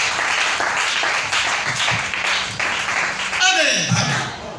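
Applause rises from a congregation in a church, loud and sustained under a voice speaking over it.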